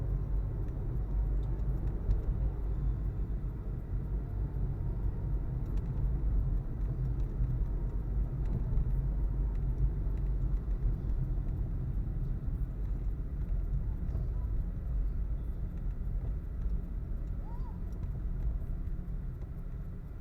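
Steady city street traffic near Parc Maisonneuve in Montreal, with vehicles heading west building into a continuous low rumble of engines and tires that holds at an even level throughout.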